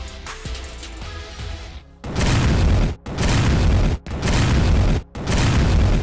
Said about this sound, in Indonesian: duar bom meledos